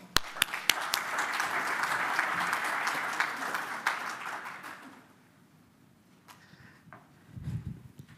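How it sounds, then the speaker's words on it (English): Audience applause at a conference session on connected TV: several seconds of dense clapping with a few sharp claps, fading out around the midpoint into quiet room noise. "So big round of applause for Ali."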